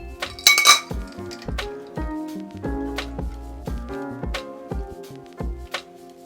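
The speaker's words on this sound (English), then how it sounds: "I'm going to strain this into a martini glass." A chilled cocktail strained into a martini glass: bright glassy clinks from ice and metal against the shaker rim open the clip, followed by a steady rhythm of small knocks and rattles as the drink pours through.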